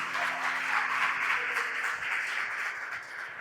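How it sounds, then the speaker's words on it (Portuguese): Church congregation applauding steadily in a broad, continuous wash of clapping, fairly loud and sustained for several seconds, easing slightly toward the end. "Você pode dar uma linda salva de palmas para Jesus?"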